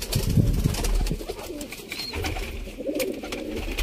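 Pigeons kept by a fancier in Sialkot coo close by in low, throaty bursts, with a few overlapping calls and some background rustle.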